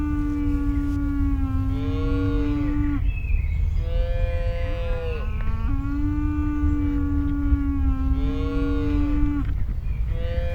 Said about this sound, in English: Greeting in the morning the cows.